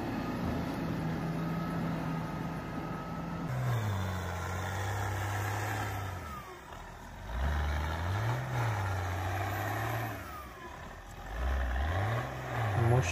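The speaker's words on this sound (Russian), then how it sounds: "Мощный мульчер до трактора такого" A powerful tractor-mounted mulcher grinds up trees, its heavy engine droning loudly and repeatedly labouring and recovering pitch as the wood is chewed up.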